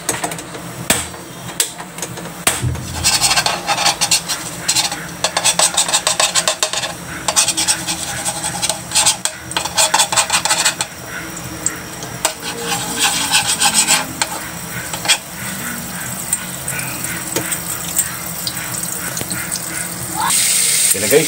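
Vegetables sauté in melted margarine in a pan, making a steady background sizzle broken by bursts of scraping and stirring of a utensil against the pan, near and moderately loud, with no talk.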